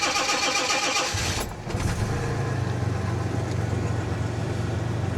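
A 1987 Jaguar car engine cranks briefly, then catches and settles into a smooth, steady idle. The low hum runs on close by for several seconds.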